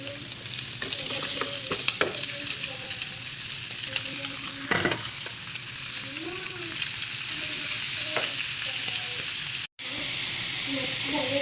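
Boiled greens go into fish frying in a pan and are stirred. A constant close sizzle runs throughout, with scraping strokes of the stirring utensil and soft voices in the background.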